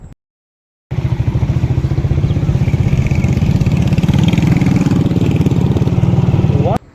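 A motorcycle engine idling roadside, a steady loud rapid putter that starts after a short silence and holds even for several seconds, close by with no talk.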